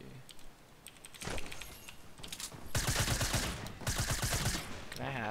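Rapid bursts of automatic gunfire from an SMG in a video game firefight, loud clattering volleys in the second half with scattered clicks and game sounds before, and brief talk.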